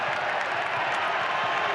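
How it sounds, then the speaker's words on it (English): Dense, steady crowd roar from a packed basketball arena, a continuous wash of cheering and applause. "Listen to this crowd."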